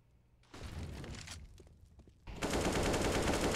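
Bursts of AK rifle fire from a Counter-Strike match crackle in sharp rapid volleys, a short burst first and then a louder sustained spray near the end.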